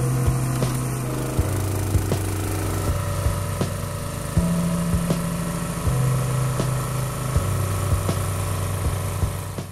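A homemade log splitter driven by a 6.5 hp engine with a 13 gallon per minute pump runs at about three-quarter throttle while splitting maple rounds, some knotted. The engine drones steadily and loudly throughout, with its pitch shifting as the load changes.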